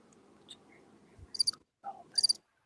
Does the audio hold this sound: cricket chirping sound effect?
yes